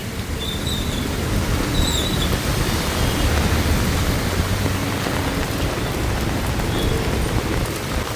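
Heavy storm rain in a village near Calicut, Kerala, a loud, steady roar of rain on surfaces throughout with faint distant chirps and no speech.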